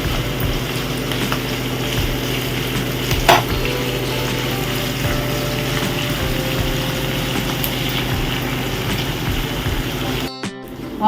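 Onions frying in a pan for chicken biryani, a steady close sizzle with a constant hissing bed, a sharp clink near the third second and a brief cutoff near the end, without speech.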